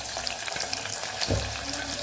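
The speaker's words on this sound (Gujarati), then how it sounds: "અહીંયા આપણે 2 મીડિયમ સાઇઝની જે ડુંગળી સુધારે એને આપણે વઘારમાં ઉમેરી દઈશું" Two medium sliced onions dropped into hot oil tempering with whole spices for Kathiyawadi vaghareli khichdi, giving a soft crackling sizzle with a brief louder burst as they land, fairly quiet overall.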